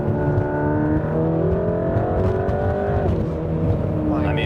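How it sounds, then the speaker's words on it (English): A high-performance car known as a Nurburgring record holder revs hard while downshifting, loud engine tones climbing and dropping with each gear change in a close, continuous roar. "So we're going downshifting here."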